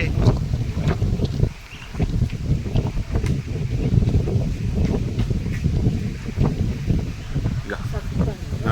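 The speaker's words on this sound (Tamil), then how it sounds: "மழை பெய்யுது காற்று அடிக்குது பாருங்க மா தாயே" Wind gusting and rain falling on the walking route to a hill temple, a continuous rough rushing noise buffeting the microphone at close range, with a brief lull near the start.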